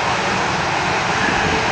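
An Aer Lingus Airbus A330 takes off at Manchester Airport with a loud, steady jet engine roar that stays constant and broadband through the short stretch, and no voices over it.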